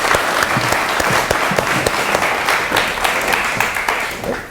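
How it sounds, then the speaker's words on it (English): A room full of people applauds Nico with loud, dense clapping that holds steady and then begins to thin toward the end. No one speaks. "can we just give a huge round of applause to Nico?"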